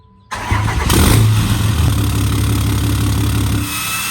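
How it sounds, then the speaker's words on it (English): A 3rd-generation Cummins diesel truck engine cranks and fires, then settles into a loud, deep idle through an aftermarket exhaust, close to the listener and with no talking. "this 3rd gen sounds insane. The exhaust makes a huge difference"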